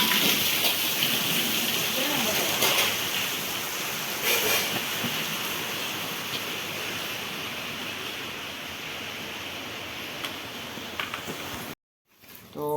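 Steady rain falls over a village, a dense continuous hiss with faint scattered drops that fills the scene until a brief drop-out near the end.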